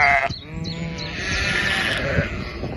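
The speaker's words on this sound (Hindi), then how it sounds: "चलो बच्चों, अब मैं तुम्हें बहुत प्यारी सी आवाज सीप की सुनाने वाला हूँ।" Sheep bleating: a single loud, wavering bleat rising and falling close by, with no talk.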